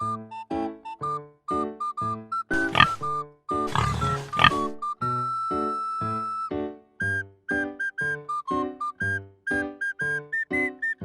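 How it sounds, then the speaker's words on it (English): A pig's harsh grunting and squealing bursts out briefly, loud and close, amid a bouncy, rhythmic tune, with no talking. "Pig is a farm animal."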